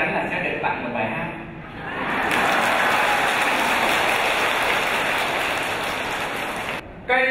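Audience applause at a Buddhist dharma talk, a sustained dense clapping that swells and holds loud for several seconds before cutting off, with some voices beneath it at the start.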